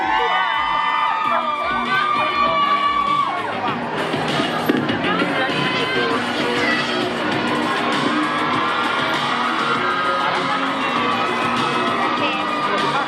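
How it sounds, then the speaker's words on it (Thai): A loud crowd screams and cheers continuously, high-pitched shrieks layered over a dense roar that never lets up. "ถ่ายภาพรวมถึงเสียงกรี๊ดอย่าตกนะทุกคน"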